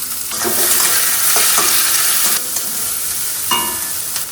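Onion, green chili, carrot, curry leaves and chopped ginger sizzle loudly and steadily in hot oil while being stirred, with a few scraping knocks of the spoon against the pan.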